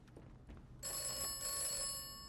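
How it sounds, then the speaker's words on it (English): A telephone begins ringing in a large, strange room in the video game Atomfall, a sudden bright bell tone that starts after a quiet moment and rings steadily and fairly faint, with no talking. "there's a phone that starts to ring."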